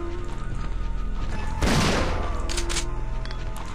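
A burst of gunfire sounds in Resident Evil 3: Nemesis over a steady droning game soundtrack. A loud booming blast comes near the middle, then its echoes fade and a few lighter shots follow.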